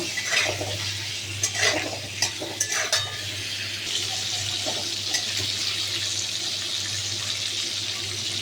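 Turmeric being stirred into an eggplant and fish curry with black cumin, a spoon scraping and clinking against the pot in irregular strokes over a soft sizzling, bubbling background, close and without talk.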